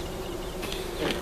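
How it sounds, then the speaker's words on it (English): A soft, steady honeybee buzz hums close by in a bee yard honey box, with a few brief brighter swells near the end. "some bees in there"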